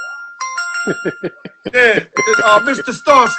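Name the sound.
phone alert from Dexcom diabetes glucose monitor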